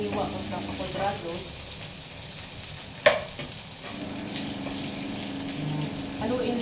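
Chopped onions hit a hot pan for sweet and sour tokwa with pineapple and sizzle steadily, with a sharp clatter of stirring partway through and a low voice speaking now and then.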